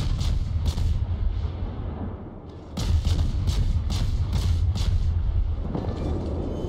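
Naval guns fire repeated salvos in a World of Warships battle, a series of deep booming shots with sharp cracks arriving in quick succession over a steady low rumble, loud and close.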